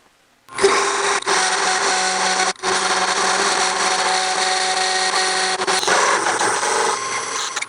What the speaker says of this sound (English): last step on the lathe is to part this thing off